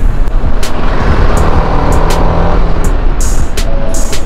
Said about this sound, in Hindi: ट्रैफिक, शाम का ट्रैफिक।